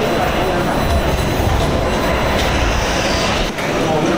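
A BTS Skytrain at a station in Bangkok gives a loud, steady rumble of rail noise with a brief dip near the end, and people talk over it.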